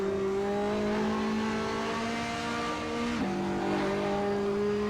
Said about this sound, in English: It's a Ferrari Testarossa.